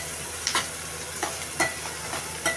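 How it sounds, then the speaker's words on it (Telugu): Ginger and turmeric masala sizzles steadily in a pan while a spoon stirs it in a few quick scraping strokes, close and fairly quiet. "అల్లం పచ్చి వాసన అంతా పోయే వరకు ఇలా వేయించుకోండి"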